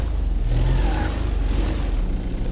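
A steady, low engine rumble from a minibus-style van in GTA 5, droning continuously and close by with no talking.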